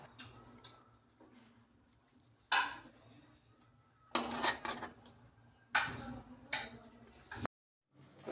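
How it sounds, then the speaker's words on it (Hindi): Matar chicken pulao rice being served onto a plate, with a few sharp clinks and scrapes of a spoon against dishware in separate bursts, close and moderately loud, with no talk. "अब इसको हम प्लेट में डालकर टेस्ट करते हैं कि ये कैसा बना है।"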